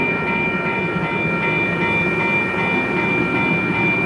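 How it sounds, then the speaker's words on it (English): Union Pacific 4014 Big Boy steam locomotive rolling past in Baldwin, Wisconsin: a loud, steady rumble of wheels and cars on the rails, close by and continuous, with no voices over it. "I will be following this train all day long and all week long."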